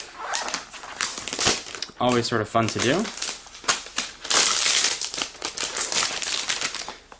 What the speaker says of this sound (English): Let's go ahead and peel off the plastic.